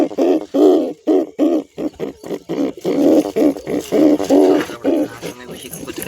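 Pigeons cooing in a loud, repeated, rhythmic series of low throaty calls close by, near a nest with eggs, with brief pauses between the phrases.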